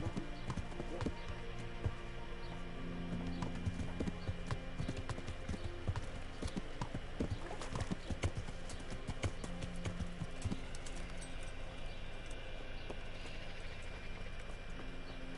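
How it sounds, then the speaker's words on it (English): Sleipnir, a fast horse in the video game Kingdom Come Deliverance, clip-clops in a quick steady rhythm of hoofbeats with an occasional whinny, while people talk over it. "It's the third fastest horse in the game."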